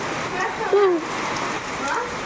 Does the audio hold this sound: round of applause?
no